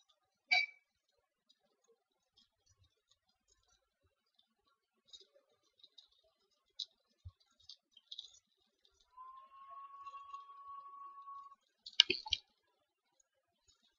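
Computer mouse clicks while working in Dreamweaver software, a few sparse sharp clicks scattered across a quiet room, with a sustained electronic tone near the end and a louder burst of clicks close by.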